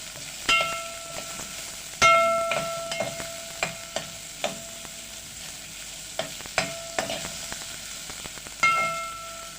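Fat melts and sizzles in a pot ahead of browning meat for a tongue-pasta and rice soup, with a soft frying hiss punctuated by sharp metallic clanks and scrapes of stirring.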